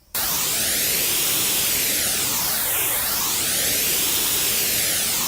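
Phaser effect from Ableton Live 9 applied to white noise: a steady, loud hiss with slowly sweeping notches that rise and fall in arcs across the whole clip, with no voice.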